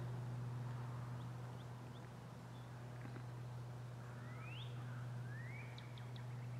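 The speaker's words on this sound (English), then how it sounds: "Listen to those birds." Birds call outdoors in Ohio Amish country, a few faint chirps and two rising whistled calls scattered over a steady low hum, distant and quiet, with no talking.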